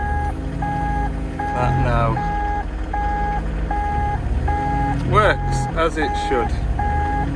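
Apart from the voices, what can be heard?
excavator quick coupler release warning beeps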